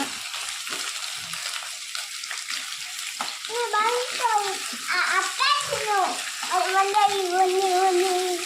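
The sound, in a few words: mixing cut vegetables with oil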